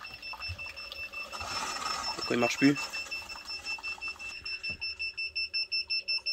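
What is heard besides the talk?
power converter alarm beeping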